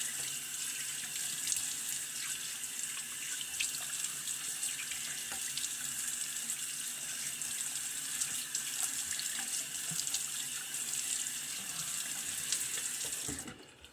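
A bathroom tap runs steadily for a quick rinse during a wet shave, making a constant, fairly faint stream of water into a sink until it shuts off near the end.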